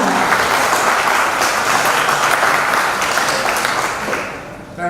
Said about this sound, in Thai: ขอเสียงปรบมือต้อนรับคุณ